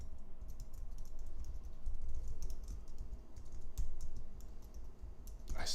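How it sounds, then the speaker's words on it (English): Steady, rapid typing on a computer keyboard, dense clicking keystrokes running continuously at close range with no voices. "I swear I'm not this bad at typing"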